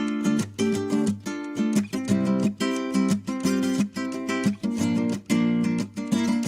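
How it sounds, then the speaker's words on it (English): A Spanish classical guitar strums a chord progression in steady rhythmic bursts, each chord ringing briefly before the next, played alone and fairly close with no talking. "my entire chord progression, as I record it on a Spanish classical guitar, sounds like this"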